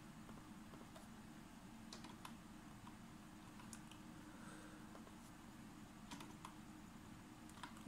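Someone types a username and password on a computer keyboard while setting up a Linux Mint 19.3 dual boot with Windows 10; soft, steady key taps patter continuously over a low hum, close and fairly quiet.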